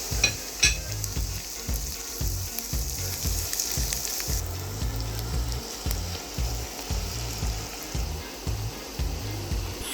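Chopped ginger and onion sizzle steadily in a hot frying pan, with a continuous close crackle and occasional stirring scrapes and no talking.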